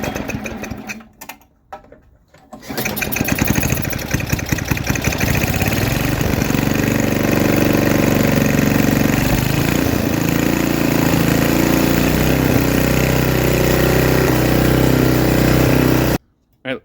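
A Craftsman snowblower engine leaking a little gas from its bowl restarts after a few short cranking sputters, then runs loud and steady for most of the clip until it cuts off abruptly near the end.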